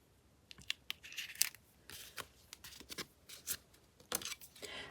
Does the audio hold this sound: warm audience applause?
no